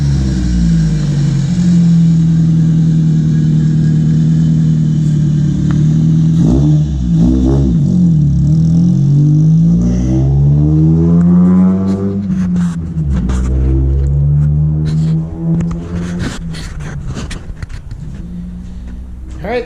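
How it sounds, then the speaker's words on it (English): Nissan Sentra SE-R Spec V revving up and driving away, engine pitch rising and falling through gear changes as the car pulls off and fades slightly. "Alright, there goes Tim's car."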